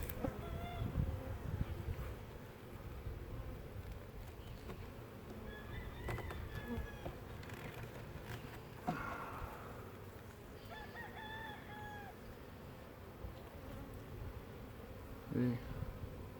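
Honeybees in a weak, declining hive that failed to requeen after swarming give a steady, close buzzing drone throughout, with a rooster crowing faintly in the distance a few times.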